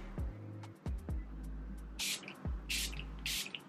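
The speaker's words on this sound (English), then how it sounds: "This is the Super Fix Super Hold Setting Spray by Revolution." Revolution Super Fix Super Hold setting spray misted onto a face, three short hissing sprays in quick succession, close and crisp, with a faint low hum underneath.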